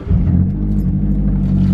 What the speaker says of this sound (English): We'll turn on the car and we'll go on a little drive.